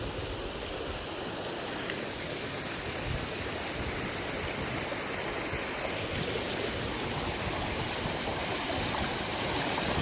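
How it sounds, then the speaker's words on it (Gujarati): A countryside stream, running like a small waterfall on a morning walk, gives a steady, loud, unbroken rush of flowing water with no voices over it. "મારી પાછળ કેવું મસ્ત મજાનું ઝરણું પડે છે, જોયું?"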